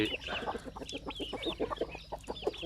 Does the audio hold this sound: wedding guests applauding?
no